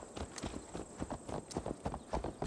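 Rhythmic clip-clop of horse hooves at a steady walking pace in Assassin's Creed Valhalla, close and fairly soft, with faint background ambience.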